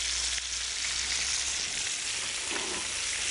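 Paprika and cumin sizzle and simmer in a hot pan, making a steady, bright frying hiss that runs unbroken from start to finish, close and fairly loud.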